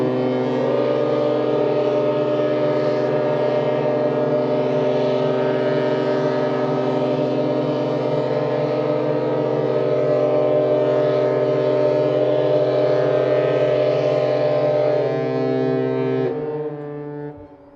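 Ship sirens blare together during a naval parade marking a 150th anniversary, several deep horn tones sustained loudly for about sixteen seconds, then cutting off.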